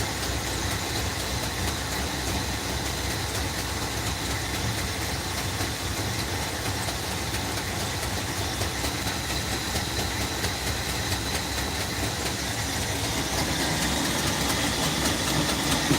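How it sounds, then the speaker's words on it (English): A car engine idles steadily with a faint ticking exhaust leak, a constant close rumble filling the whole stretch with no talk over it. "Still got a little bit of an exhaust leak I can hear"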